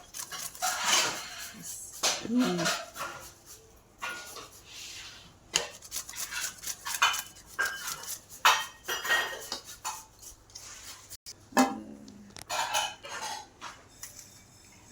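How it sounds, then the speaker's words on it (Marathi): Raw potatoes being grated by hand for sabudana vada in a home kitchen, irregular scraping strokes against a metal grater with clinks of the utensil, moderately close and fairly quiet. "हे बटाटे खिसायला चालू आहे, कच्चे बटाटे खिसायला"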